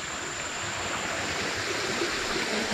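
A river flowing steadily at a fishing spot where nets are set, giving a dense, continuous broadband rush of water that stays close and even throughout, with no voices.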